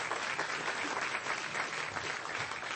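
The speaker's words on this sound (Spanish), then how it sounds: "Un aplauso, Señor, por ello." A church congregation applauds steadily throughout, a dense, even wash of many hands clapping at moderate loudness with no voices standing out.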